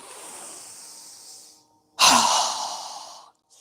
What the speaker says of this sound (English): we're going to exhale through our mouth with a strong exhale as we quickly lower our arms and hands down